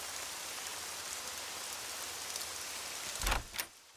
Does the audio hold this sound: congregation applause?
no